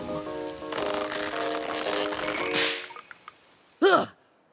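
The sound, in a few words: rain falling in a cartoon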